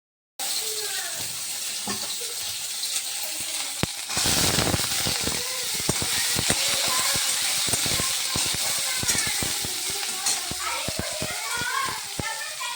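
Fish curry with onion and eggplant frying in hot oil, a steady broadband sizzle with frequent sharp pops and crackles running throughout, loud and close.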